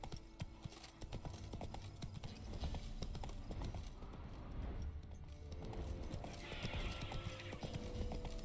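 In The Witcher 3 game, the horse Roach gallops with rapid rhythmic hoof clip-clops over a steady bed of game ambience and mechanical clatter, fairly faint and continuous throughout.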